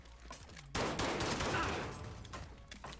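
Gunfire in the video game Call of Duty Modern Warfare, a sudden loud burst of rapid shots that trails off into scattered fire, with a voice faintly underneath.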